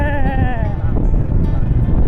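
Goat or sheep bleating on a rural hillside road near a marsh, a wavering voiced call in the first half over steady vehicle and wind rumble, with people talking nearby.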